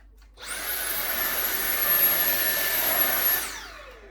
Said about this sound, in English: Trusty Dyson.